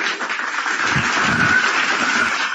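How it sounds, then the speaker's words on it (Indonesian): Dense, continuous clapping from a crowd, steady and fairly loud for the whole stretch, with no voices over it. "Tepuk tangan lagi"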